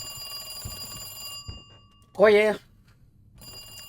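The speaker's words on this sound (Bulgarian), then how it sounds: "Някой ни се обажда ли?" Old telephone ringing in Resident Evil 2: a short, loud, rapid bell trill. Before and after it there are quiet game ambience and brief speech.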